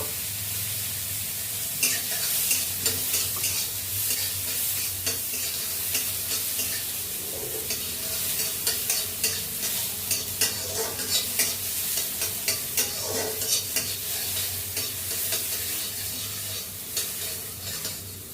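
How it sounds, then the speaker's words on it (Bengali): Long-cut potato strips sizzle steadily as they fry in a pan after black cumin seeds, with a spoon scraping and clattering against the pan in a quick, irregular rhythm throughout. "আলু দিয়ে আলুগুলো একটুখানি হালকা ভাজা করে নেব।"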